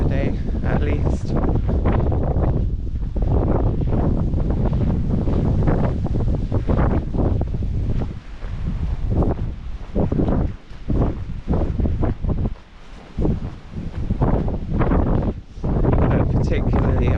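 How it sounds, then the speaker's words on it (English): Strong wind roars and buffets steadily across a Cornish coastal walk from Wadebridge to Newquay, a loud, continuous rushing that surges and dips in gusts throughout. "we'll be walking against the wind for most of the day"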